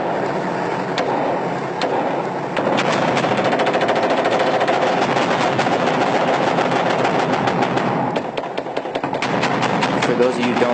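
Sustained automatic gunfire, rapid bursts of machine-gun shots firing into a mosque in Iraq, loud and dense throughout with brief pauses, voices faintly mixed in.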